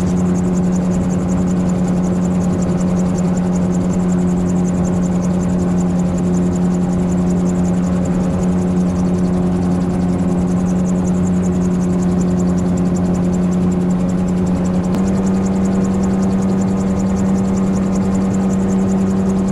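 A gyrocopter's engine drones steadily in flight over a river channel, a loud, constant hum with strong low tones and a faint high whine, holding unchanged except for a slight shift in pitch partway through.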